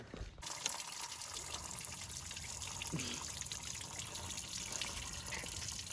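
Water trickling and dribbling steadily inside a Volkswagen Passat, a continuous close hiss of running liquid with no talk, a faint brief tone standing out midway.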